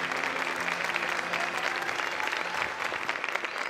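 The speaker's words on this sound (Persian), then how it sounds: "تشویق کنین دوستانمون رو." A studio audience claps steadily at a Persian television talk show honoring veteran Persepolis football players, the dense applause holding loud and even throughout without talk.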